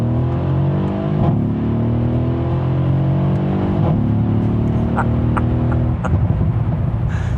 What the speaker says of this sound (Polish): nie ma nic piękniejszego niż taki układ wydechowy